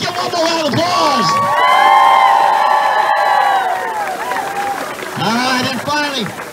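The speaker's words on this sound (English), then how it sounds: "Let's give them a round of applause." A crowd cheers, whoops and shouts for a high school cross country team at a state sendoff, loud and continuous with children's shrill voices and clapping mixed in.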